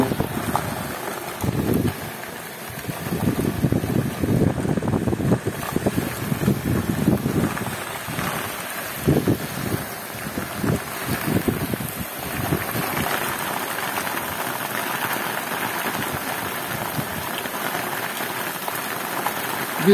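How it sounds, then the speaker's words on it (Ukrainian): A summer storm in the Kherson region batters the microphone with heavy wind gusts and rain, rough rushing bursts rising and falling for the whole stretch, loud and close, with no talking. "Ще й вітер пішов."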